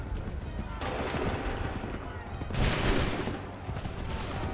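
Musket volleys in Assassin's Creed III crack out as two broad bursts of gunfire, the second louder, over a busy battlefield din with horses nearby.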